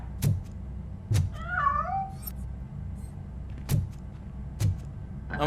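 A cat in the RoboCop Rogue City video game gives one drawn-out, wavering meow, set among heavy, evenly spaced thudding footsteps in the game.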